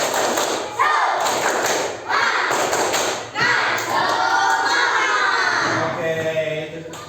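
Schoolchildren in a primary classroom do a rhythmic spirit clap, with loud patterned hand thumps and slaps alongside children's shouting and chanting, recorded close in a lively room.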